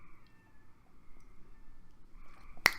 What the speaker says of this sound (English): that cat's meowing like a motherfucker